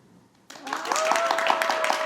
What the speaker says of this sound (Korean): 박수까지 받으셨습니다.